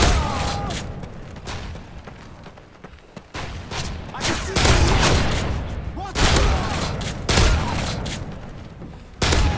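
Bursts of automatic gunfire and heavy explosive booms from Call of Duty Modern Warfare 3 survival mode, coming in loud irregular volleys over several seconds, with people talking over the game action.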